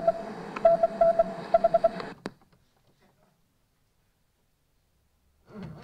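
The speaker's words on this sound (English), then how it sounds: "Each initial is represented by its sonic Morse code equivalent of dots and dashes." Sonic Morse code spelling out a person's initials plays as a series of short beeping tones and longer dashes for about two seconds, followed by silence and then a brief faint noise.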